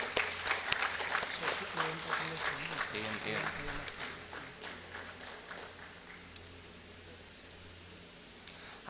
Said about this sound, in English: Please shower a round of applause.